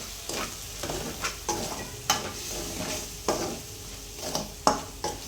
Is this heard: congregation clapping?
no